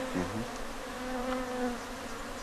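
A steady, close drone of many bees buzzing together during a hive transfer in Ghana, continuous and even, with no voices.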